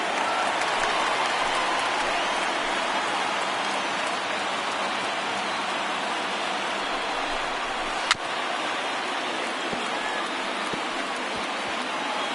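A large baseball stadium crowd of around 35,000 in MLB The Show 19, 1930s World Series game between the Yankees and Indians, roars in a steady, dense wash of cheering throughout, with one sharp crack midway.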